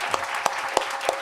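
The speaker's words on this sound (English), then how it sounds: "Let's give Hari and Margo a round of applause" A small audience at a bookstore author talk gives a light round of applause, a few distinct claps standing out over a soft, thin patter at low volume.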